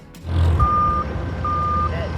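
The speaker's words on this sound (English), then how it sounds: "Huge fork trucks move among rows of choppers." Huge fork trucks sound loud reversing beeps at a National Guard aviation facility in Salisbury, North Carolina, two long evenly spaced tones over a constant heavy engine rumble and low hangar noise.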